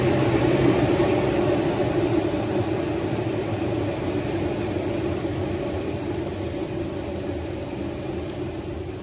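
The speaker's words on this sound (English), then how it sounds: "I'm gonna start the car." A car engine runs steadily at idle with a dense low rumble, close and continuous, easing slightly in loudness over time; no talking.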